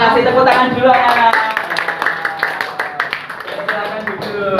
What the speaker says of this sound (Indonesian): tepuk tangan dulu anak-anak